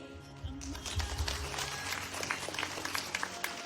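An audience gives a round of applause for an honoree, Miss Charmaine Robisky, with a steady patter of many hands clapping at moderate volume under a faint murmur of the room.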